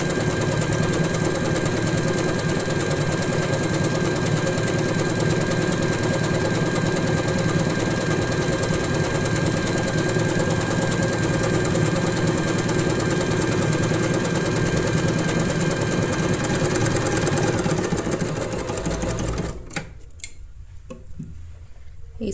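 Usha Janome Wonder Stitch sewing machine running slowly, a steady mechanical whir with a rapid ticking rhythm that continues for about twenty seconds before stopping abruptly, leaving quiet room sound.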